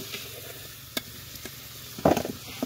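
Fried potatoes are lifted from a pan with a spatula: a few soft taps over a faint background sizzle, then a louder burst of scraping and clattering near the end.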